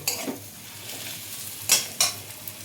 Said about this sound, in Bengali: কুচুরির প্রিপারেশনটা আমার হয়ে গেছে এবার আমি ঢেলে নেব